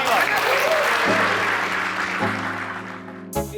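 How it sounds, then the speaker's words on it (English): Audience applause closes a town hall panel with a steady wash of clapping from a room full of people, tapering slightly near the end, while tonal background music hums underneath and a brief sound cuts in at the close. "a round of applause for everyone"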